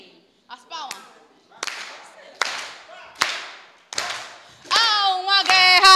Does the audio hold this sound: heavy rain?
no